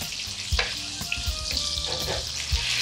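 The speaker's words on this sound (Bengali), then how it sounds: "আলু অল্প করে একটু ভেজে নেব।" Potatoes frying in a pan, a close, busy crackling sizzle with scattered knocks of stirring utensils against the pan.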